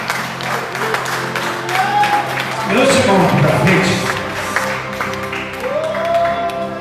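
A church congregation claps in praise during a sermon on Psalm 51, steady clapping running underneath a preacher's loud voice and murmuring from the crowd.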